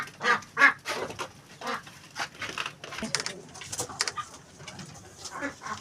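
Ducks and pigeons at a home coop make close, overlapping quacks and calls with soft coos and some rustling, in irregular bursts that continue throughout.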